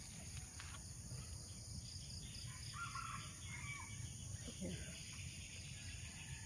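Chickens and a rooster crow in a quiet mountain village, their calls faint and distant over a steady bed of insect and cricket hiss and low rural ambience.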